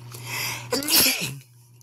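One loud sneeze from a person standing outside in chilly weather, a sudden explosive burst over a constant low background hum, with a short breathy lead-in.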